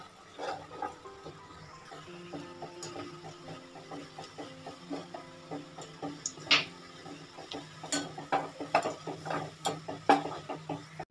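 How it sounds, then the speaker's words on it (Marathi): Thick puran poli filling of sweetened lentils being stirred in a pan over a high flame, with repeated scraping and clacking of the spoon against the pan and a low background hum. "कंटिन्यू हलवत राहायचं आहे"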